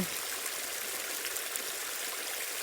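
Water gushing steadily from a centrifugal pump's outlet, a constant hissing rush with an even, unbroken flow, moderately close and free of talk.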